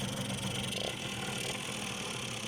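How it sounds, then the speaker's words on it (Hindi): A Yamaha motorcycle engine runs steadily after a kick start, its carburetor freshly cleaned and adjusted to fix a starting fault; a continuous near rumble with slight rattle and no speech over it. "पहली किक पे स्टार्ट हुआ है"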